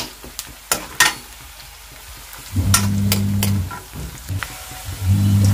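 Chili powder fries in hot oil for Kolhapuri mutton, a soft sizzle under a few sharp clicks, then louder bursts of frying with a low steady hum that stops and returns.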